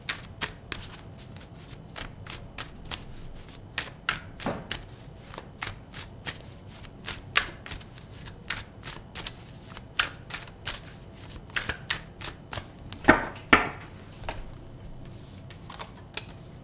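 Tarot cards shuffled by hand at close range, a steady run of soft riffling clicks and flicks repeating throughout, with a couple of louder snaps near the end and no voices.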